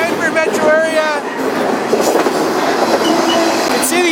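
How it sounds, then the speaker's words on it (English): A freight train rolling along rails near the Denver metro area, loud and close, with rhythmic clickety-clack of wheels and occasional high metallic squeals over a continuous rumble. "It's a legit train."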